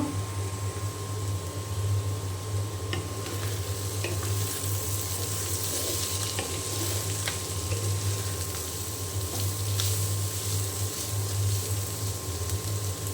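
Lentil fritters (bora) made from ground dal with onion and chili fry in oil with a steady, continuous sizzle, faint clicks and scrapes scattered through, no voices.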